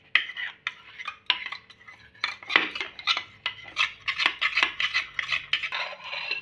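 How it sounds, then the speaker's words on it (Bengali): A spoon scrapes and rubs curd around the inside of a bowl while preparing sweet yogurt, a close run of irregular scraping and light clinking strokes that grow busier over several seconds. "বাটির গায়ে কিন্তু আমি লাগিয়ে নেব।"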